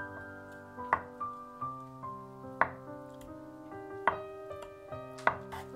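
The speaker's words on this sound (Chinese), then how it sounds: "豆腐切块" A knife cuts soft tofu into pieces on a board, giving a series of soft, evenly spaced thuds and taps, about six in a row at close range, quiet and with no talking.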